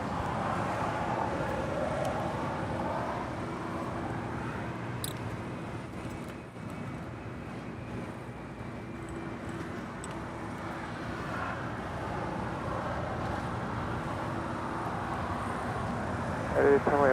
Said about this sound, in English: Breeze coming in from Jacksonville, Florida, in this Airbus A220-300.